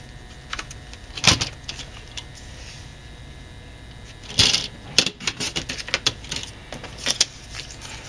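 Paper is cut for a mat in papercraft, heard as several short, sharp slicing and trimmer strokes in irregular bursts, close and fairly quiet against a soft room hiss, no speech.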